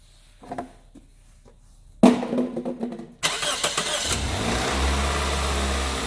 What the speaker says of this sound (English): remove our empties so that they don't somehow fall into the engine bay when we start this thing up